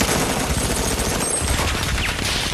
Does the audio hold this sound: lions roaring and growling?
no